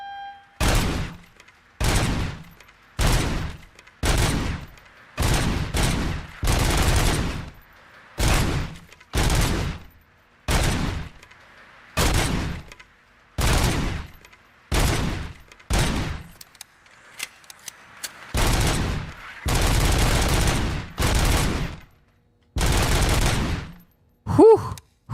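Automatic gunfire in the video game RoboCop: Rogue City, fired in about fifteen loud, close bursts separated by short pauses, with no talking over it.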